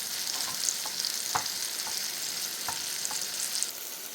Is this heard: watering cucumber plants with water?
no